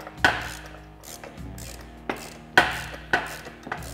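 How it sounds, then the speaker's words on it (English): A ratchet snugs nylock bolts down on the clutch of a Polaris RZR XP Turbo during a clutch kit install, giving several sharp, close clicks at uneven intervals with no talk. "It's almost just snugging the bolt down"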